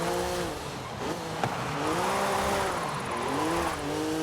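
A car drifting in the racing game Forza Horizon 5, its engine droning and revving with wavering pitch while tires squeal steadily through the corner, loud and continuous.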